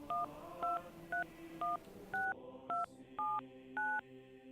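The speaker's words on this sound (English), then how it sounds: "He dialed a number." A telephone number is keyed in as an audiobook sound effect: eight crisp touch-tone beeps in a quick, slightly uneven rhythm, each a short clear dual tone over a faint background.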